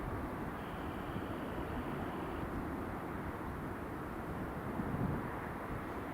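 An Aer Lingus airliner departs Edinburgh Airport, its engine roar a steady, broad rumble held at moderate level throughout, swelling slightly near the end.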